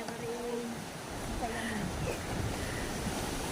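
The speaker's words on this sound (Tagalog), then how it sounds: "Malalaking alon." Big ocean waves wash and roar steadily around a boat at sea, with a broad surf rush and wind buffeting the microphone; faint voices come and go underneath.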